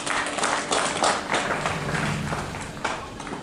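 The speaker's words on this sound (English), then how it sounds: "And we give them a round of applause," Applause from the audience at a university open day: a short burst of scattered hand clapping of moderate loudness that thins out slightly toward the end.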